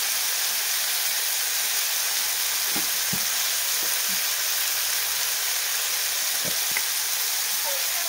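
Tomatoes sauté in a pan as turmeric goes in, giving a steady, close, hissing sizzle throughout, with a few soft clicks of stirring.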